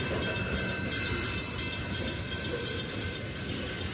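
Long freight train easing toward a stop at a railroad crossing: a loud, continuous rumble of rolling cars with steady wheel clatter and a faint metallic squeal, close by throughout.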